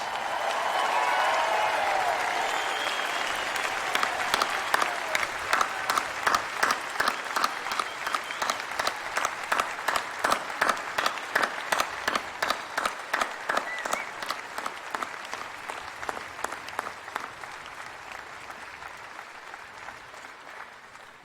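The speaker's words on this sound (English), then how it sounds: "give them a Clemson overtime round of applause" A commencement audience gives a long, loud round of applause, many hands clapping together in a dense wash that turns into rhythmic, steady unison clapping before it slowly fades.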